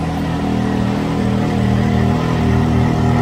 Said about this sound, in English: this is what it sounds like with the stock exhaust